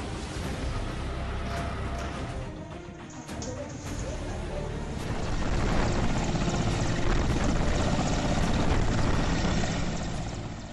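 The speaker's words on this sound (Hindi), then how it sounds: "सेना के हेलीकॉप्टर मैदान में" Army helicopter deployed over a Himalayan flood and tunnel disaster zone, its steady rotor and engine roar continuous and loud throughout, swelling slightly midway, with faint voices mixed beneath.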